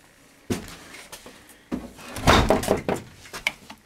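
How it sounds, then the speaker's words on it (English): Footsteps going down stairs and a door opening into a cellar, a few separate thumps and knocks at moderate distance, with a louder cluster of clatter and bumps toward the end. "I'm going to go down here, down the stairs, through a door"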